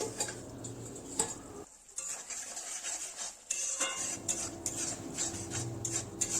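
A pot lid lifts off and a spoon scrapes and clinks through spice paste sizzling in oil in a pan for fish curry, a close, busy stir with a brief lull partway through.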